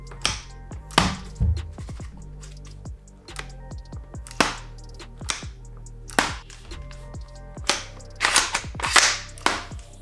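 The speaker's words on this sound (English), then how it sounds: "The bolt pull on this gun is definitely not amazing" An SSG96 MK1 airsoft sniper rifle bolt is cycled repeatedly, each pull and push giving sharp, close metallic clacks and snaps spaced in uneven bursts, with a cluster of quick clicks near the end.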